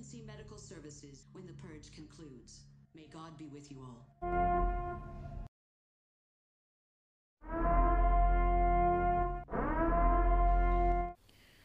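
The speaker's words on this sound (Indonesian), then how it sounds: "ketika bunyi sirene telah dimulai, artinya malam penyucian sudah dimulai" A droning civil-defence-style siren from the film The Purge sounds in two long loud blasts, the second soon after the first, following a stretch of talk.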